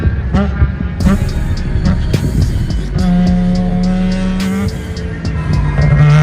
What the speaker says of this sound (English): Listen to the downshifts from 5th to 1st.